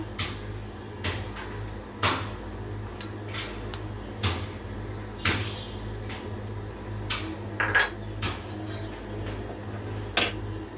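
Utensils clink and tap against a cooking pot as garlic paste goes in, a series of sharp metallic knocks spaced irregularly over a low steady background hum, close and moderately loud.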